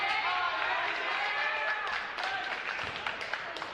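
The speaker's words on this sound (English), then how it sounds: "Like to applaud the effort." A crowd in a high school basketball gym applauds, with a dense wash of clapping and crowd noise that gradually thins into scattered individual claps toward the end, heard at moderate distance.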